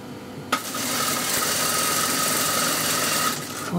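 A sewing machine runs a wide, rough basting-length seam on a buttoned sleeve. It starts abruptly and keeps a steady, loud, close whirring hum for several seconds before easing off.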